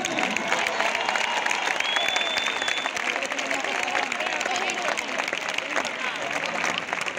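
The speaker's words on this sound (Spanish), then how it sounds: "Nuestra bajista, al bajo, un fuerte aplauso" A concert crowd applauds and cheers for the band's bassist during band introductions, the dense clapping steady throughout, with a voice heard faintly under the noise.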